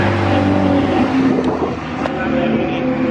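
Ferrari Challenge race cars sweep past at Silverstone circuit, a loud continuous engine roar with a couple of brief whooshing pass-bys, heard from trackside without speech.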